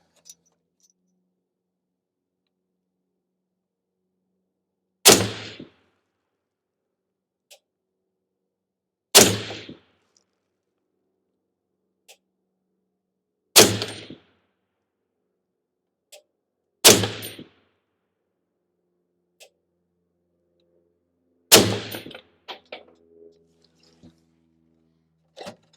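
A Ruger SFAR .308 semi-automatic rifle firing Hornady Whitetail ammunition outdoors, five loud, sharp shots spaced several seconds apart, each with a short ringing tail, faint clinks and handling noises in between.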